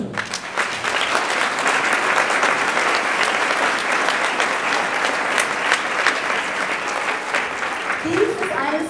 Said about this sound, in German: Und jetzt erstmal einen herzlichen Applaus für den festlichen Einzug